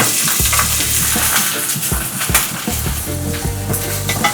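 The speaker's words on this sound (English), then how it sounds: "We saute this for about 2 to 3 minutes before we hit it with some garlic." Onions sautéing in olive oil in a pan make a loud, continuous close-up sizzle with frequent scraping and stirring throughout.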